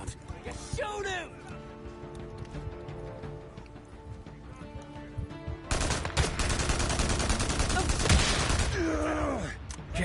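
Gunshots in Days Gone, a dense stretch of loud rapid fire in the second half, following galloping hooves and horse whinnies at the start, with voices speaking over parts of it.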